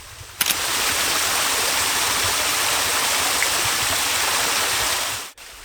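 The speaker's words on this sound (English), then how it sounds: "Here, the water drops cleanly over a darker sandstone ledge into a" Winter stream water falls over a dark sandstone ledge into a narrow pool, a loud, steady broadband rush that holds evenly for several seconds and then cuts off abruptly, with no talking.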